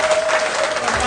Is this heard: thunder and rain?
no